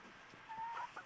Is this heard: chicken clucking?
yes